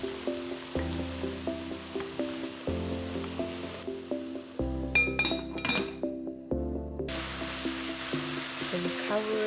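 Vegetables and meat stir-fried with oyster sauce for jjajangmyeon crackle and sizzle in a pan, broken by repeated clinks and scrapes of a utensil stirring at a steady rhythm, close and clear.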